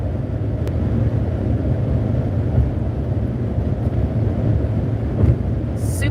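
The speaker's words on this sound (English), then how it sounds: "Super windy." Strong wind blows outdoors, buffeting the microphone in a continuous low roar that swells and gusts unevenly, with no voices over it.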